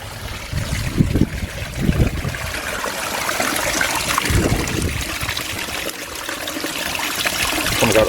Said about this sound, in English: drain off over 200 litres of water.